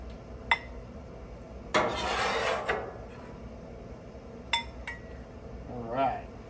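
A metal spatula scoops New York strip steaks off a Blackstone griddle with sharp metallic clicks, then a longer scraping pass across the flat-top and a softer scrape near the end.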